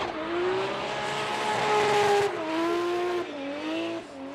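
A BMW E92 race car in qualifying at Fuji Speedway, engine screaming loud and close under full throttle with rising tones and shifts, alone without talk.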